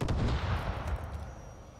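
A Stinger missile launcher firing in a video game: one heavy, booming blast at the start that rolls off into a fading rumble over about two seconds.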